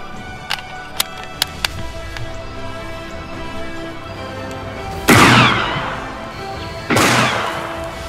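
Gunfire of .22 green tracer rounds: several sharp, separate cracks at irregular intervals followed by two much heavier, louder booms with lingering rumbling tails, fairly close, with no talk.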